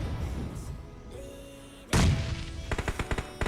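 Gunfire in a professional esports league match of a first-person shooter: a sudden loud burst followed by a rapid series of sharp shots, close and prominent, with several quieter pops trailing at the end.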